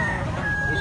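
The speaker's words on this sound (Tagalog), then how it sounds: "Apo kay manok si Boss Ariel." A Gilmore bloodline gamecock crows once in a short, strained call, close by, over a steady background hum, at a public market.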